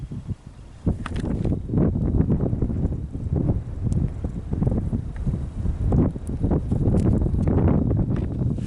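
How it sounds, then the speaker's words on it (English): Gusty wind buffets the microphone in a continuous rough roar at Emigrant Lake, Oregon, with thumping surges and rustling throughout; no voices. "I don't know if the audio is going to turn out on this because it's so windy"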